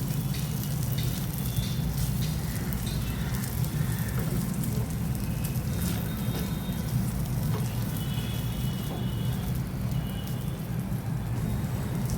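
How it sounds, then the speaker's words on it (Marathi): Okra sizzles in a pan with crushed peanut powder as it is sautéed, a soft, even crackle running steadily throughout at low volume, with no voices. "परतून घेऊया."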